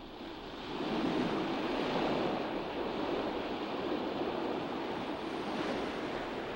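Ocean surf washes steadily onto the shore as the tide returns, a continuous broad roar of breaking waves with some wind across the microphone, loud and close throughout with no voices.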